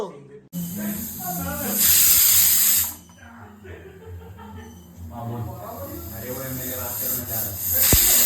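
A pressure cooker whistle blows, sending out a loud, sustained steam hiss that surges twice, with conversation going on around it in a home kitchen.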